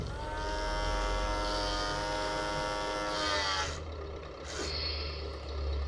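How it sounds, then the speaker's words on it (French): Electric motors whine steadily as the motorized landing legs lower on a Tamiya Scania 770S V8 8x4/4 RC truck, a continuous buzzing drone that shifts pitch near the end, close up with no talk. "descendre mes pieds motorisés"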